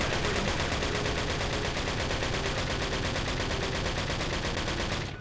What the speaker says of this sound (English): I'm sorry, are you shooting at me?